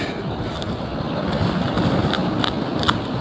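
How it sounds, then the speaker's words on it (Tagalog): Strong, cold wind buffeting outdoors, a low rumbling roar with gusty surges and a few faint clicks, no talking. "Isa na dyan dahil sa medyo malakas ang hangin"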